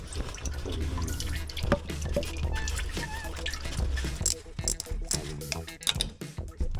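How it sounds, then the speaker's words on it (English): Engine antifreeze drips and trickles from disconnected cooling pipes in an old workshop, irregular close drips and splashes with faint talk and clatter around them. "allowing us to drain the engine's antifreeze"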